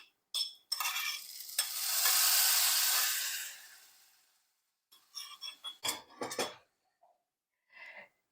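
Hot oil tempering with vadagam hits spinach sambar with a loud, rushing sizzle that fades over a few seconds, followed by scattered stirring and utensil clinks.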